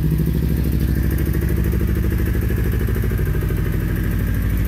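A Kawasaki Ninja motorcycle engine with 26,000-odd on the clock runs steadily just after a battery change, a loud, close, continuous rumbling idle with a clattery pulse and no talk.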